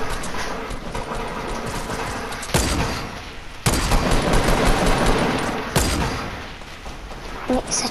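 Gunfire from the Fortnite video game sounds in steady automatic bursts with a few sharp louder reports, dense and continuous over game background noise, with no one talking over it.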